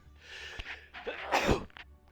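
A single sneeze bursts out at close range, with a short breathy intake and a sharp expulsion, surrounded by quiet voices in a small room.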